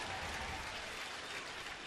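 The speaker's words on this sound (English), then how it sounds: "A nice play by a fan there. Round of applause." A ballpark crowd applauds a fan's catch in the stands during a baseball game, a dense, distant wash of clapping and cheering that stays steady throughout.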